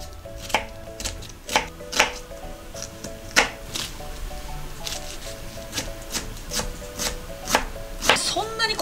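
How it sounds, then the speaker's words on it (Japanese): Onion being finely chopped with a knife on a cutting board for stuffed green peppers, a steady run of sharp, close taps in quick irregular bursts over a soft background. "玉ねぎのみじん切りは、こうやって細かく分けてやるだけです"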